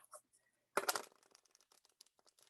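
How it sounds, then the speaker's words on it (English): Tarot cards are shuffled up close, a quick riffling burst followed by soft scattered flicks and rustles of the deck, fairly quiet with no talk. "So I'm just going to shuffle up a little bit more"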